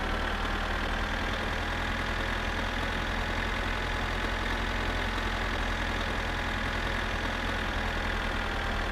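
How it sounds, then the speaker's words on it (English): The old Kekmet tractor of about 50 horsepower in My Summer Car labours up a hill, its engine giving a steady, dense, unbroken drone with a low rumble that stays loud and constant throughout, with no talk. "this poor old Kekmet really does struggle with the hills. It's not a very powerful tractor."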